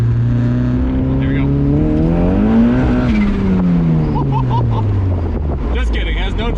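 A turbocharged Miata accelerates hard in second gear and spins its tires, the engine note climbing then falling over a constant wind rush inside the car. A brief chirp of tire squeal comes near the end, and a voice is heard.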